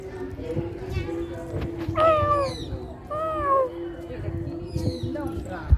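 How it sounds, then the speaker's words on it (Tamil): A cat at the grounds of the Erumbeeswarar temple in Thiruverumbur gives three clear, drawn-out meows close by, spaced a second or two apart, while people talk in the background. "ஹரியா பாருங்க பூனை கூட விளாண்டுட்டு இருக்கா"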